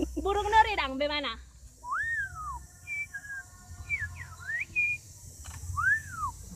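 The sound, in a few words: voice imitating a lory bird call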